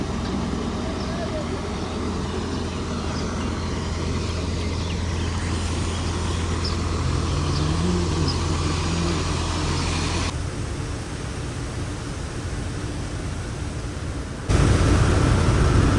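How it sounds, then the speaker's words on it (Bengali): Inside the cabin of a Saint Martin Sea View Express sleeper bus on a Dhaka to Panchagarh road journey, a loud, steady broadband road and engine drone carries a low hum and continues without a break. "এবার একটু শুনুন এই বাসের কেবিন নয়েস কীরকম"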